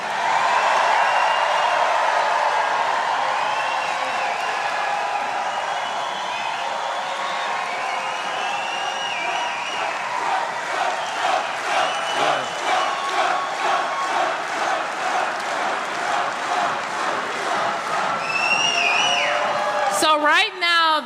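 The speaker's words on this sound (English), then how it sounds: "I want you to give an applause for Donald Trump, who helped overturn Roe v." A political rally crowd in Warren, Michigan cheers, whoops and applauds loudly. A dense roar runs throughout, and a rhythmic burst of clapping builds in the second half.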